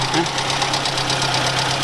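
A Yugo Koral 45 engine idles with a steady low rumble and rhythmic knocking pulse, loud and close, while a voice talks faintly over it.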